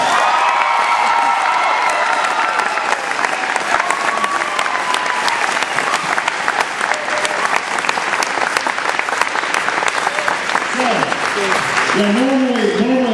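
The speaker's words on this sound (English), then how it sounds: "Give Nick a big round of applause" Big round of applause for Nick at a campaign rally in Carson City, Nevada: a crowd claps loudly and continuously with cheers and whoops, and a voice speaks over the noise near the end.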